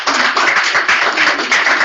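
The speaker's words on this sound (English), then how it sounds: "let's give our speakers another warm round of applause" Steady applause from a seated conference audience at a whistleblower training session, dense overlapping claps filling the room at close range with small swells in intensity, no voices.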